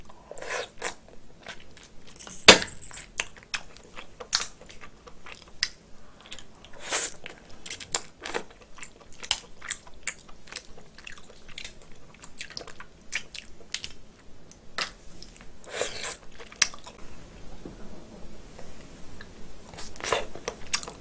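Someone eats snow crab and red snow crab dipped in sauce, with close, frequent crunches, cracks of shell and wet chewing and squishing throughout, mostly free of talk.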